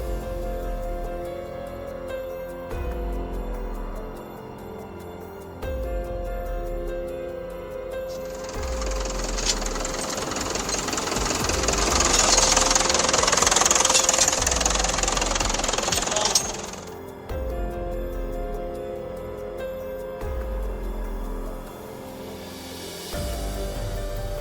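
A 60-horsepower tractor engine labours as its wheels spin fast in deep mud, a steady close mechanical roar that swells into a louder, harsher churning burst midway before settling back to the working drone.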